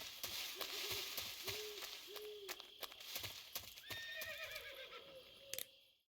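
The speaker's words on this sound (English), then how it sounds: "I know a horse when I hear one." Horse in the Metal Gear Solid 3 video game: soft hoofbeats clop along, then a clear, fairly quiet whinny rises near the end, with no speech over it.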